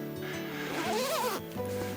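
Zippers and clips clicking at a remote campsite make a close rasping zip that rises and falls, surrounded by small clicks and a steady background hum.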